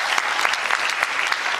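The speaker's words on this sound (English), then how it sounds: "graduates, I want to give you a round of applause one more time" A church congregation at a Sunday service gives graduates a round of applause, a dense, even wash of many hands clapping together, loud and sustained throughout with no speech.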